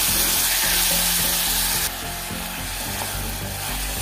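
Chopped tomato frying in a pan for tomato bath, with a loud, dense sizzle throughout that drops somewhat in level partway through, with faint stirring under it and no talk.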